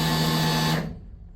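Electric fuel pump priming on a turbo big block Plymouth Duster, a steady close buzzing whine that cuts off abruptly after under a second.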